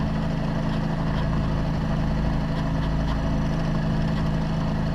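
A sailboat's engine drones steadily while motoring on the way to Lake Huron, a constant low hum with no change in pitch and no talking.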